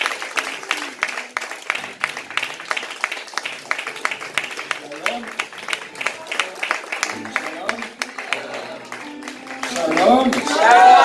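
A church congregation applauds the pastor during a worship service, rapid clapping spread through the room while a voice speaks over it, swelling louder near the end.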